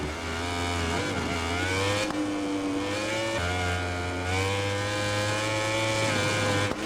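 High-pitched motorcycle engines race steadily in MotoGP 20 at Aragon, a near, continuous whine that rises and falls through gear changes, with a brief dip around the two-second mark before climbing again.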